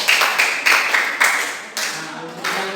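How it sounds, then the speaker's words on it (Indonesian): A handful of people clap in a classroom micro-teaching session, the claps coming in several short uneven bursts close by that fade toward the end. "tepuk tangan buat kalian semua"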